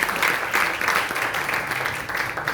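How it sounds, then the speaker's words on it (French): Church congregation clapping together in praise to God during a bilingual Portuguese and French worship service, a steady dense wash of hand claps lasting throughout, fairly loud with no speech on top. "Vamos aplaudir a Deus."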